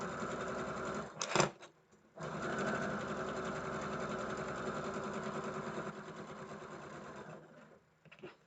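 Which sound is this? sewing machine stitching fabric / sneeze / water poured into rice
sewing machine stitching fabric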